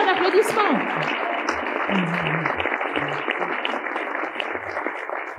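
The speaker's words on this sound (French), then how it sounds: "un tonnerre d'applaudissements" Applause from an audience at a cinema club closing-night event, a continuous dense patter of clapping with talk breaking in at the start.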